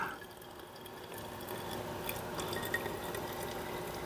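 Gasoline pours into a small water-content test bottle while a Simplicity snowblower is checked for a fuel problem, giving a faint, steady liquid trickle that lasts about four seconds with no talking.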